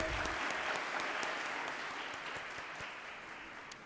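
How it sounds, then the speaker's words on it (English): An audience applauds the Class of 2021 at a Grade 12 graduation ceremony, a steady wash of clapping from a large crowd, faint and distant, slowly tapering. "Please give a round of applause for the 2021 graduating class"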